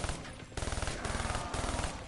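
A burst-fire gun shooting in a video game, loud rapid volleys of three- to four-round bursts separated by brief pauses, close and alone.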